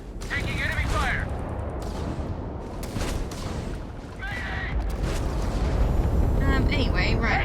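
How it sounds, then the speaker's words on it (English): Spaceship combat in the video game Starfield, with enemy fire hitting a ship in critical condition: a roaring, rumbling barrage of blasts and impacts over steady engine noise, loud throughout, with a person talking intermittently over it. "My ship's in critical condition. I can't shoot. Taking enemy fire."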